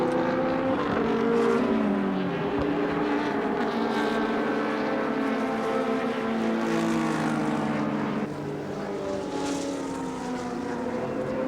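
Touring cars race at Wanneroo in 1988, a steady loud blend of several engines with shifting pitches as they pass and overlap, the whine sustained throughout without talk.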